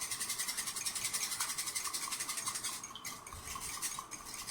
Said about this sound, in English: We need to whisk the eggs to mix the yellow with the white.